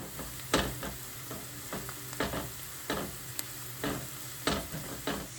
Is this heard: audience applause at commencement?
no